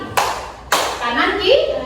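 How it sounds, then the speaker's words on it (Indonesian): Children clapping in unison in a classroom clapping game led by a teacher, two sharp group claps about half a second apart, followed by a teacher's voice speaking over the room. "Jadi nanti kalau Ibu bilang tepuk pagi, kalian tepuk satu."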